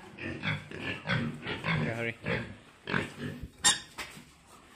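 Pigs on a farm grunt and give short squeals, fairly close, in an uneven run while a person talks nearby.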